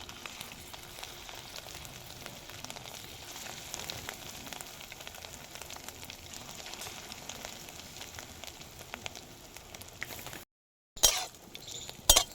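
Egg fritters fry in oil with a faint, continuous sizzle, then a brief gap and a few sharp clinks near the end.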